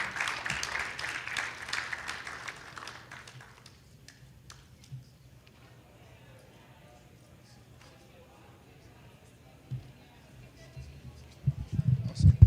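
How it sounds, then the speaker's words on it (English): A burst of crowd applause at an innovation festival fills the opening few seconds, then fades into a quiet room with faint murmurs and a few stray noises. "Please, another round of applause for Peter."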